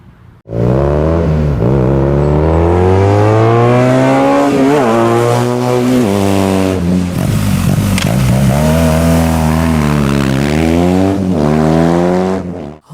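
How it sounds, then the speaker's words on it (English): A Honda RC51 90-degree V-twin motorcycle engine roars loud and close, revving steadily with rising and falling pitch through gear changes, the deep twin-cylinder rumble sustained throughout. "The RC51 is a 90-degree V-twin motorcycle"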